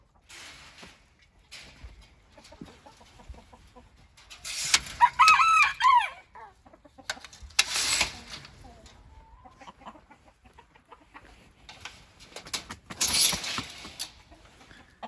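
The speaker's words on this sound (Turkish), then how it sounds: "İçeride iki tane de tintet tavuk var." Chickens in a backyard coop cluck in short bursts with a rooster crowing once in the middle, a few more squawks following, all fairly close with no talking over them.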